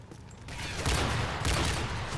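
Gunfire in the Modern Warfare 3 video game rattles as a dense burst of shots through a wall, loud and continuous over about two seconds, with no talking.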